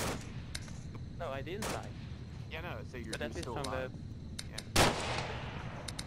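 Scattered sharp bursts of gunfire in the VR game Onward crack out, one louder blast near the end, while someone talks over them.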